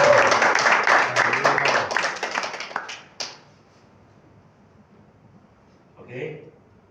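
A church congregation claps during a sermon, a dense burst of many hands lasting about three seconds, then fading into near quiet with a faint voice afterward.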